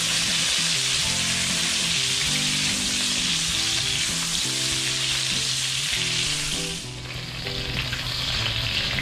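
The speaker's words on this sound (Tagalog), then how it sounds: "Prito muna natin ito." Pork sizzles and fries steadily in hot oil in a pan for ginataang langka, a loud, continuous crackling hiss heard up close.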